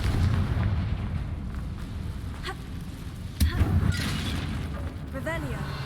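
Confringo blasting spell going off in Hogwarts Legacy, a sharp explosive burst with a short booming tail, set against continuous game ambience and music.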